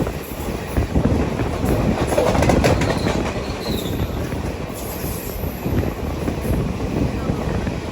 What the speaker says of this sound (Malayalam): തൃപ്പൂണിത്തുറ റെയിൽവേ സ്റ്റേഷനിലേക്ക് ഇതാ നമ്മുടെ ട്രെയിൻ എത്തിയിരിക്കുകയാണ്